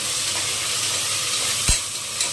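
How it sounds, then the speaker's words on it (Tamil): Ginger and garlic frying in a pan, a close, loud, even sizzle with a single knock of a utensil near the end and no talking. "இதெல்லாமே நல்லா ஃப்ரை ஆகட்டும், நல்லா மசிட்டும்"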